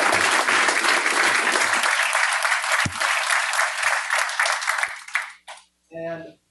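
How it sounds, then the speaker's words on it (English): Audience at a school board trustees meeting clapping in a loud, sustained round of applause that fades out after about five seconds, followed by a brief voice. "So I'd like to give a round of applause."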